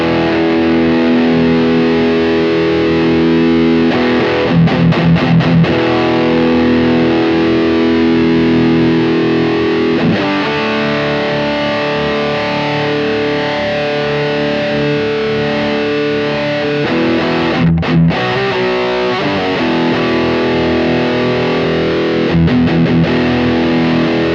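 Heavily distorted electric guitar through the Aurora DSP Laney Ironheart plugin with a Tube Screamer-style boost, playing loud, tight chugging riffs with brief gaps and choppy muted stabs, alone without talk.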